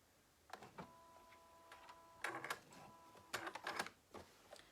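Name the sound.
sewing machine reverse stitching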